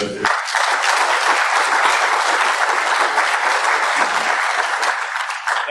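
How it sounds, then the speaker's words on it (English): Audience at a network security talk on honeypots applauding a speaker, a loud, dense burst of clapping that starts abruptly and holds steady for several seconds before easing slightly. "can we just have a round of applause for Doug?"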